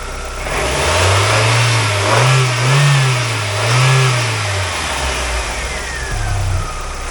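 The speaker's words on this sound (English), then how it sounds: "Motor's nice and quiet." A 2002 Mazda Miata NB engine runs smoothly and quietly at close range, rising through three gentle revs that swell and ease back before settling toward idle, with no voices over it.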